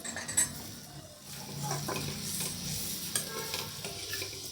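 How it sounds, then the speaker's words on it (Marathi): Guava pieces sauté with chili powder and black masala in a pan, a close, steady sizzle broken by occasional spoon taps and stirring scrapes, with no talking. "थोडंसं परतून घेऊ आणि या उरलेल्या फोडी"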